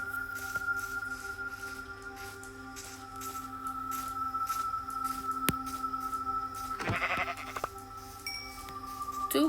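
A single sheep bleat in Minecraft Bedrock rises over a steady electronic hum and faint tones, loud and close, with no talking.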